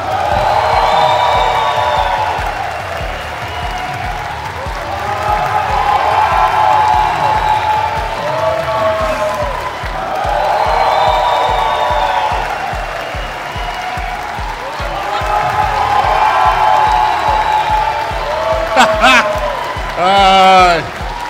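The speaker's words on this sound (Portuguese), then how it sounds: "recebam no palco, com muitos aplausos e gritos histéricos" An audience at a stand-up comedy show applauds and cheers as a comedian is welcomed to the stage, waves of clapping and shouting rising and falling, with a host's amplified voice speaking over it and a few sharp whoops near the end.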